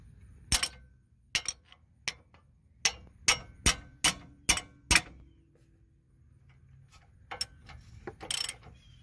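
A 3/4 wrench loosens an outer tie rod end nut on a 2000 Lincoln Town Car, producing a series of sharp metallic clicks and ratcheting taps in an irregular rhythm, close and clear with no talking.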